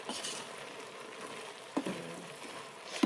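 Food is stirred in a frying pan over a soft, quiet sizzle, with two sharper utensil scrapes near the middle and at the end, and no one talking.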